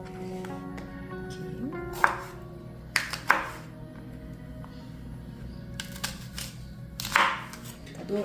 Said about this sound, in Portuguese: Tá vendo que eu pico de forma grosseira porque a gente vai bater